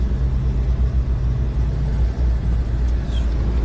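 Continuous low rumble of a 2015 Maserati Quattroporte GTS with a 3.8-liter twin-turbo V8 while driving, heard from inside the cabin as a steady, fairly loud drone with slight swells.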